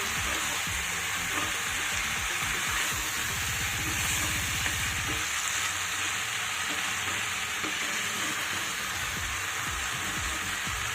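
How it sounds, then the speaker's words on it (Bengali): Mixed vegetables with Malabar spinach being sautéed in a pan for a vegetarian chorchori, a steady close sizzle with bursts of stirring scrapes, continuous for the whole stretch with no talking. "আরও এক দেড় মিনিট মতো আমি সব সবজিগুলোকে ভালো করে কষিয়ে নিচ্ছি"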